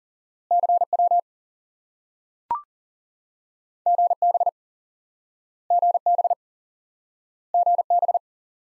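Morse code practice tones, a steady pure beeping pitch sent as four short bursts of repeated dits with silent gaps between them, plus one sharp click near the middle.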